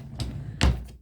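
A drawer in a sewing room holding paper patterns is pulled open, two wooden thuds with the second louder and heavier, close and brief, with no talk.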